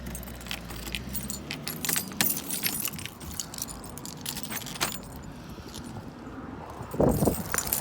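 Keys jangle while a shop door is unlocked, a loose metallic rattling that runs through most of the stretch, with a car passing outside and no talk.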